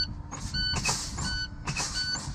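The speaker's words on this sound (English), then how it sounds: "Oh, there's my buzzer and my light." A truck's in-cab low air pressure warning buzzer sounds in short repeated bursts with a warning light, fairly quiet inside the cab against a low rumble, as air brake pressure drops during a check.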